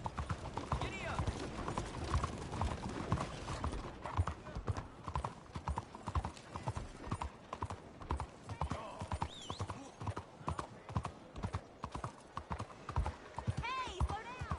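Horse hooves clip-clopping at a fast gallop in the Red Dead Redemption 2 video game, steady rapid hoofbeats throughout with a brief whinny and game voices talking over the ride.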